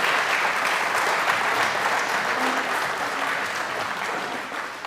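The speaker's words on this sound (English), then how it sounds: "So let's give Owen a round of applause." A Sunday church congregation applauds a person introduced from the front, giving dense, steady clapping that fills the room for several seconds and tapers slightly at the end.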